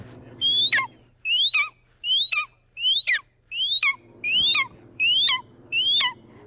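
A human voice whistles an imitation of an immature red-tailed hawk's call, with eight loud, close, descending screechy notes repeated at a steady rhythm with short pauses between them.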